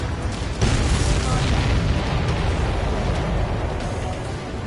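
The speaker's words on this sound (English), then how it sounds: "Missile away." A missile launched from a fighter plane in an aerial combat video game, heard as a loud, booming blast followed by a sustained roaring rumble that fills the rest of the moment.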